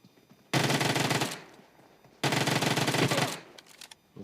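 Two long, loud bursts of rapid automatic gunfire in PUBG Mobile as a player shoots down a bot, each burst lasting under a second, separated by a quieter gap with faint game ambience.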